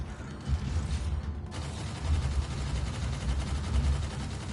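Rockets launching in the VR space shooter EVE: Gunjack, heard as a steady low rumbling, mechanical whoosh with faint rattling shots, moderately quiet and continuous with no talk.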